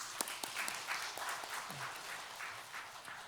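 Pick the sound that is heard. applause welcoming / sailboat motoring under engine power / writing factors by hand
applause welcoming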